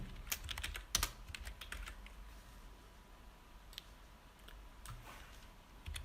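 Computer keyboard typed in short quick clusters of clicks, a burst near the start followed by sparse, quieter keystrokes, close and soft with no speech.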